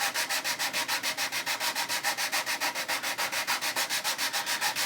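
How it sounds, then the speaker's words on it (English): Steady rhythmic back-and-forth sanding strokes rasp across the hull of a 1/350 scale USS Missouri BB-63 model ship, close and even, about five strokes per second, with no voices. "where I've been sanding it right now, it's starting to feel nice and flat"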